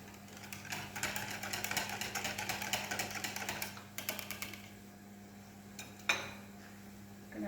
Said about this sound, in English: I'm just going to give it one more whisk.